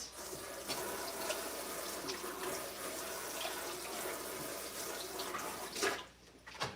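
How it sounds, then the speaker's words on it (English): Tap water runs steadily over a plastic cutting sheet in a kitchen sink, a constant close splashing rush that briefly shifts and sputters near the end as the sheet is moved. "Rinse off my cutting sheet."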